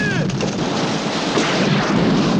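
Gunfire in a 1983 James Bond action scene, a dense barrage of shots and blasts blended into a loud, continuous roar of battle with voices faintly mixed in.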